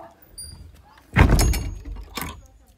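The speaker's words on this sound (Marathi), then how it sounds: "हा दरवाजा लावून घे" A door shuts with a single solid thud at close range, followed by a brief rattle and faint background noise.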